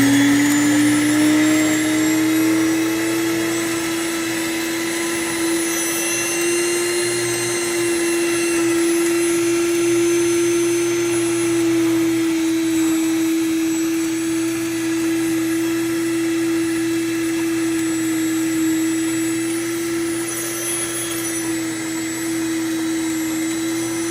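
A NutraMill Classic electric grain mill runs loudly and steadily for the whole stretch, a strong motor whine with a constant pitch and a dense roar of grinding. It is close and has no voices over it.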